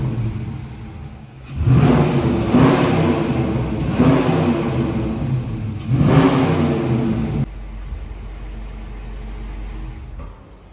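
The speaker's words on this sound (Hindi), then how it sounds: "अभी रेव करो मेरे को।" A V8 SRT car engine revs hard in several loud bursts, each rising and falling close by, then drops back to a steady idle rumble with no one talking.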